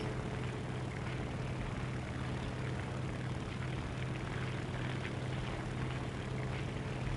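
A propeller fighter plane's engine roars continuously in a War Thunder realistic air battle, a steady loud drone with wind rush and no speech.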